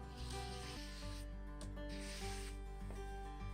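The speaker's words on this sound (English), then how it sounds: "I'm going to take my spatula and I'm going to just scrape off the shaving cream." A spatula scrapes shaving cream off a sheet of paper in a Suminagashi marbling craft, giving a steady, close rubbing scrape under a background of continuous tonal music, with no talking.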